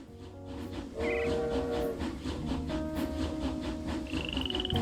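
A train runs in the Railroad Corporation video game, giving a continuous rumbling hum with sustained tonal lines. A whistle-like tone rises near the end, and nobody speaks.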